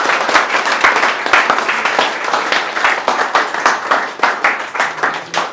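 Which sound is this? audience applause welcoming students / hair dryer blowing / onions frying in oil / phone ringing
audience applause welcoming students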